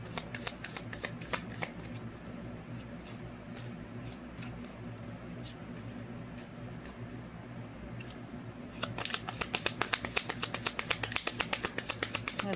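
Tarot cards shuffled by hand, rapid riffling flicks repeating in bursts with brief pauses, then a faster, denser run of card snaps near the end, close and without talk.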